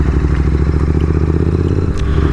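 A superbike engine revs hard with rev matching on a weekend road ride in Hyderabad, a loud, close, steady throbbing roar with a brief blip near the end and no talking.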